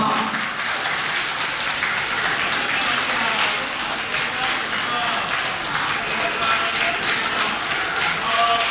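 Steady, dense applause from a crowd at a school closing award ceremony honouring students for active participation in Catholic activities, continuous and even for the whole stretch.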